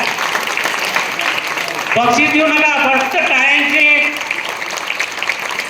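Audience clapping for a mallakhamb pole-gymnastics demonstration swells in the middle and holds steady for about two seconds, with someone talking over it before and during the applause.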